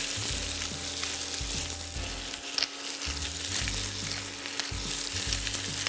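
Steak and mushrooms frying in a pan with salt, pepper and crushed garlic, a steady close crackling sizzle with occasional scraping stirs and low thumps from handling the pan, no talking.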